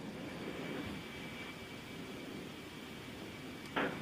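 A USAF C-17 or C-130 military transport aircraft takes off, a steady, faint, hissing engine roar that holds without change and ends in a brief clatter near the end.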